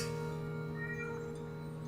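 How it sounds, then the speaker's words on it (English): A pet cat meows in the background with a sustained, tonal call, heard alone over steady room noise and the faint hum of video game music. "That's my cat in the background."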